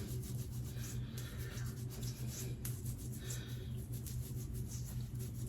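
Hands rubbing apple cider vinegar into long, waist-length locs during a hair wash, a steady, close, soft scrubbing that keeps a constant rhythm over a low hum, with no talking.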